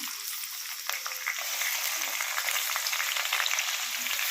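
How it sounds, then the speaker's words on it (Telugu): Onion and green chillies frying in hot oil for a curry, a steady, fairly quiet sizzle with fine crackling and no voices. "ఇప్పుడైతే ఆయిల్ పెట్టుకున్నాము ఉల్లిపాయ పచ్చిమిరపకాయ వేసుకుంటున్నాం"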